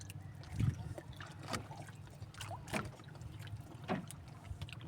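Quiet sea water lapping and sloshing against a small boat, with occasional soft splashes and faint creaks in a calm open-water setting.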